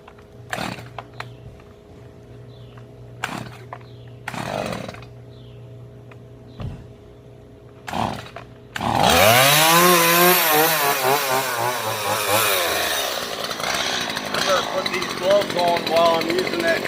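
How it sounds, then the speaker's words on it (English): A chainsaw cutting through brush tangled with poison ivy on a small landscaping job: sparse knocks and quiet rustling at first, then the saw roars up close and loud and revs steadily under load until the end. "On while I'm using that chainsaw"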